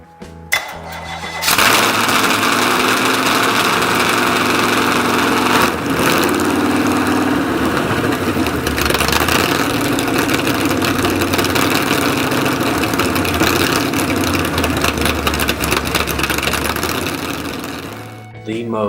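A Chevy 409 V8 barn-find engine from a buried '55 Chevy drag car, fitted with a dual quad intake and two Edelbrock 500 CFM carburetors, starts up and runs loud and rough, holding a steady roar close by before easing off.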